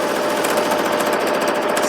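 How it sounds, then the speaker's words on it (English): A sewing machine stitches along a seam on a pair of jeans being altered, giving a loud, steady mechanical whir and buzz that runs unbroken throughout with no voices. "I'm just sewing along that original line that I had done"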